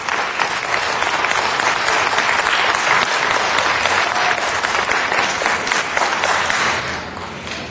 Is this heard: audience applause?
yes